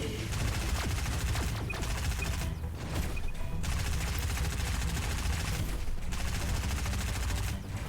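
Sustained gunfire rattles in the video game Not For Broadcast during the D.E.E.P. Battle of Jove sequence, a dense, loud stream of automatic shots with brief dips in intensity, carrying on throughout.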